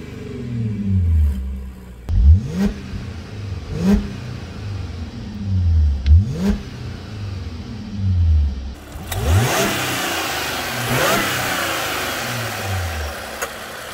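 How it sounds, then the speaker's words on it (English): A 2016 Audi A7 Quattro 3.0 V6 revving repeatedly through small exhaust tips, each throaty burst rising and falling back to idle, close and loud, with rougher hiss toward the end. "you do have some small exhaust tips in there that do put out a pretty nice sound."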